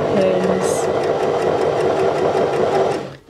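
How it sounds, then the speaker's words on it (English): Domestic sewing machine stitching a dart in fabric along a chalk-marked line, a steady close mechanical whirr running continuously before cutting off near the end. "now I'm going to sew a couple of stitches, reverse, not quite off the end"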